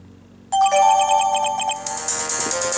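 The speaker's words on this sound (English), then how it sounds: "Memo received from Mia" In the Ace Attorney video game, a memo-received notification jingle bursts in after a quiet moment, a bright chiming melody of rapid ringing tones that settles into a sustained shimmering ring.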